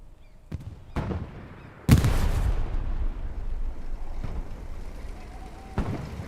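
Battlefield gunfire and artillery in Hell Let Loose: a few sharp distant reports, then a heavy close blast that rolls into a long rumbling tail, with another crack near the end.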